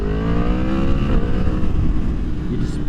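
A 2023 Yamaha MT-10 motorcycle accelerating on light throttle, its engine note rising steadily and loud up close with a deep rumble and dense exhaust tones throughout.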